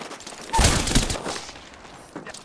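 Gunfire in the video game Apex Legends, a short rapid burst of shots followed by a fading tail and a faint later crack.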